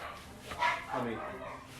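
A dog barks a few times in a home, the barks mixed with a person talking over them.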